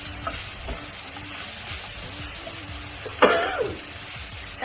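A spicy Thai phat phet is dry-stir-fried in a pan, with soft sizzling and repeated scraping and stirring. A brief cough or throat-clear cuts in partway through.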